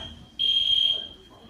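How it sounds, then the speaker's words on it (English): A dormitory fire alarm sounds at night as a loud, steady high-pitched electronic tone, starting abruptly and holding for about half a second before dropping back to a fainter continuing beep. "Fire alarm went off mid-sleep"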